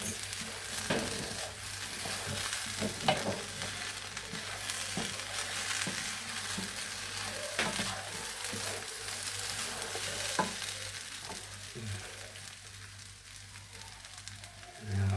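Tomato sauce is stirred into a seafood paella frying in the pan, giving a close sizzle and crackle with repeated scraping stirs throughout and a voice speaking faintly underneath.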